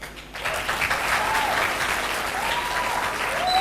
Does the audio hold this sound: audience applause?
yes